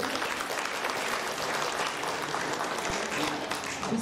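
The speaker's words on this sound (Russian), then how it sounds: "Аплодисменты, пожалуйста." Steady applause from an audience at a presentation event, a continuous dense patter of clapping at moderate distance with faint voices underneath.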